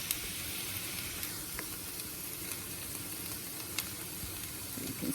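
Onions frying in a pan toward a tender golden color, a steady fine sizzle and crackle with occasional pops and a brief stir near the end, close and continuous with no talking.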